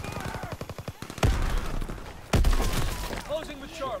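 Gunfire in Call of Duty WWII, a rapid run of automatic shots followed by two heavy, booming blasts with ringing decay, with voices talking in the mix.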